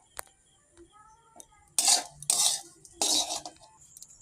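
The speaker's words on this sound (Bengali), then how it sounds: "এটা দিয়ে একটু নাড়াচাড়া করে নিয়ে এবার নামিয়ে নেবো" A spoon scraping and knocking in a pan while semolina upma is stirred before being taken off the heat, with three close bursts of rattling stirring after a few faint clinks.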